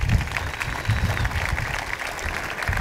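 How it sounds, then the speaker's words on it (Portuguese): An audience at the Somos Cabo Verde awards gala applauds for emigrants, a dense steady wash of clapping that carries evenly throughout. "pedi um aplauso especial para esse"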